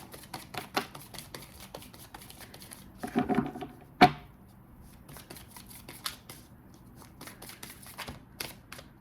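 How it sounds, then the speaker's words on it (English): Animal Spirit Oracle cards being shuffled by hand: soft, quiet riffling and tapping clicks scattered through the stretch, with a denser flutter and a sharper snap near the middle, no talk. "We're going to go ahead and pull two of the Animal Spirit Oracle cards."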